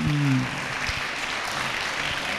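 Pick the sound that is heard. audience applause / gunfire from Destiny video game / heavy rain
audience applause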